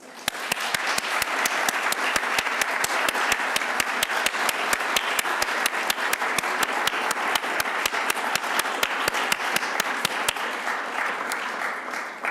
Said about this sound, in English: Let's applaud them all